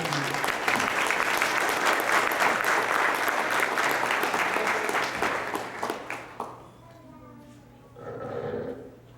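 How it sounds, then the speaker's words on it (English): Sustained audience applause at a memorial banquet, dense and even for about six seconds before tapering off, followed by a brief murmur of voices near the end. "Please give him a round of applause as he comes to welcome you."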